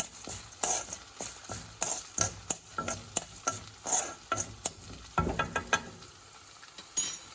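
Urad dal and red chilies frying in a pan for coriander coconut chutney, with a steady sizzle broken by repeated scraping stirs and light clinks of a spatula against metal, fairly close and without talk.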